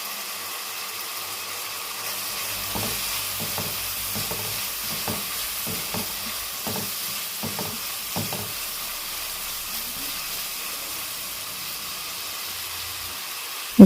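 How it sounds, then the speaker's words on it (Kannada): Ginger garlic paste frying in a pan for mushroom masala gives a low, steady sizzle and hiss, with a run of light spoon scrapes and taps through the middle, close and without talk. "ಇದೆಲ್ಲ ಚೆನ್ನಾಗಿ ಫ್ರೈ ಆಗಲಿ."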